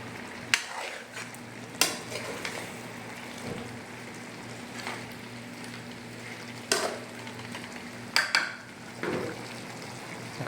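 Rohu fish head and pumpkin frying in a pan, a low steady sizzle broken by repeated scraping and clinking strokes of a spatula stirring against the pan, close and irregular, with no voices.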